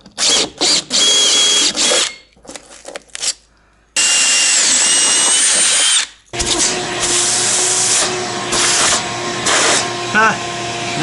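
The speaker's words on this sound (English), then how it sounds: "We get to drill another hole." A power drill bores a hole through a SIP panel with spray foam inside, in loud whirring bursts broken by pauses, followed by a long steady grinding run near the mic.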